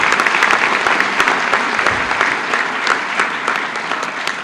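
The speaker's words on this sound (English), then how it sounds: "go ahead, applaud." An audience at the Texas A&M University San Antonio inauguration breaks into loud, sustained applause, many hands clapping at once and tapering slightly near the end.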